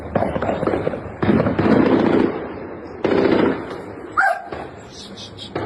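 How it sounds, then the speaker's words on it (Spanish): Gunfire between cartels and Mexican government forces, heard from inside a family home; rapid bursts of shots cracking in the distance over noisy background, with voices and a dog audible. "Aquí podemos oír en una vivienda familiar de fondo los disparos entre los cárteles y el gobierno mexicano."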